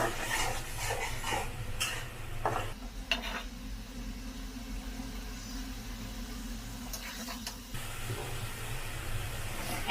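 Prawns frying and being stirred in a pan for a shrimp and drumstick-stalk curry, a steady sizzle with scraping, stirring clatter and a brief pause in the middle.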